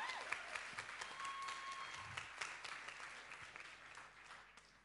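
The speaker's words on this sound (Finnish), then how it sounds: "Annetaanpa heille kaikille vielä jätti-aplodit." An audience claps at a concert evening, a dense wash of applause that starts strong and gradually tapers off, with a few sharper individual claps.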